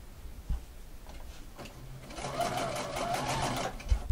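Sewing machine stitching a self-bound seam in fabric, starting up after about two seconds into a steady, fast mechanical whir that runs to the end, close and clear with no talking.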